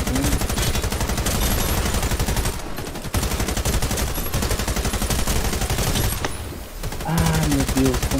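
Rapid automatic gunfire rattles continuously in a shooter video game, dense and loud, with two brief pauses and a few overlaid game sounds toward the end.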